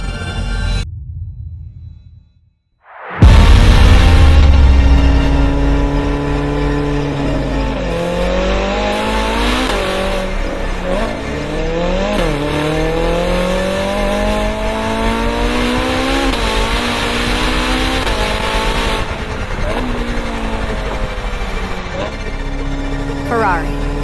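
A Ferrari 849 Testarossa with a twin-turbo V8 accelerates hard after a brief silence, its engine note rising loud and close through repeated gear shifts as the roar climbs and settles. Music or other produced sound may lie beneath it.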